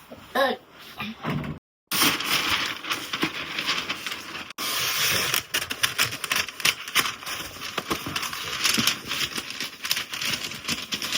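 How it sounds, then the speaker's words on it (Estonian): Adhesive tape rasps repeatedly as it is pulled from the roll and snipped with scissors while a gift box is wrapped, a close, busy run of tearing and crackling noises that fills the whole stretch. "nüüd Marta, anna teipi ja kääre."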